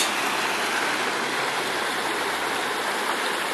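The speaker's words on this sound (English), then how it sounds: "The river gets so high and the dam breaks way." Swollen river water rushes loudly and steadily through a broken beaver dam on the Purgatoire River, a dense, unbroken roar close by with no voices.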